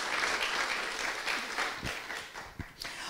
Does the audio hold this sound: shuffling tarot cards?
no